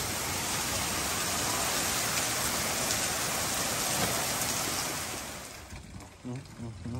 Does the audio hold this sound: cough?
no